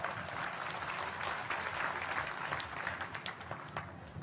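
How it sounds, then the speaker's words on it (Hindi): An audience at a religious court gathering applauds, a dense steady patter of many hands that swells slightly midway and then thins toward the end. "आनंद आया तो ताली तो बजा दो भाई।"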